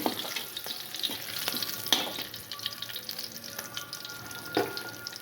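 Green chillies and curry leaves frying in oil for a gram-flour egg curry, a quiet, continuous close sizzle with scattered crackles and a few spoon taps, no voices.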